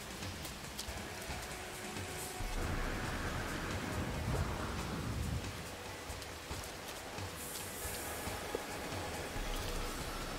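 A rainstorm with thunder in No Man's Sky: steady rain hiss throughout, with a deep rolling rumble swelling in the middle and fading out, no voices.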